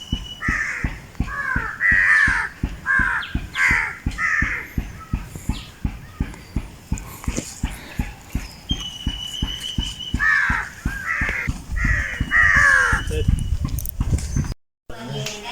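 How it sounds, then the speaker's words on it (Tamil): Repeated loud crow caws in bursts of several calls each, close by, as crows eat offered rice in a village, over a steady rhythmic clip-clop-like thumping in the background. "இந்த காகம் வந்து பக்கம் சோறு சாப்பிட்றது."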